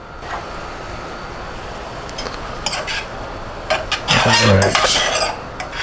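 Oyster penne pasta stirred in a pot, with utensil scrapes and clinks against metal coming in scattered bursts and a louder clatter near the end, over a steady low background hiss and bubbling.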